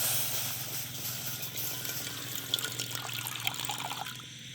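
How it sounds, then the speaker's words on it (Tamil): Water trickles and splashes steadily as it is poured into a cooking pot set on damp ground outdoors in a village, a continuous close liquid stream with a few brighter splashes toward the end. "அதை தண்ணியை விடுவோம்."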